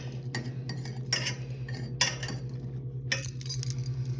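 Mushrooms sautéing in a pan are stirred with a utensil, giving intermittent scraping clinks and taps over a low, quiet sizzle, with no talk.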